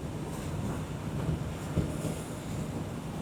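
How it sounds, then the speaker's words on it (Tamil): Strong wind in the Yelagiri Hills under clouded weather buffets the microphone with a continuous, loud, low roar and gusty rumble. "நான் இங்கே காற்று இவ்வளோ அடிக்குது."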